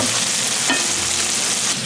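Frozen okra fries in a pan, giving a loud, steady sizzle that fills the whole moment, with one brief scraping stir from a utensil partway through.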